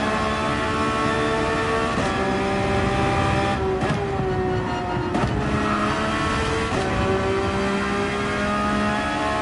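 A race car in Gran Turismo 7 at the start of a race: a loud, close engine whine with its pitch climbing through several gears and sharp shift breaks, alongside other cars roaring nearby.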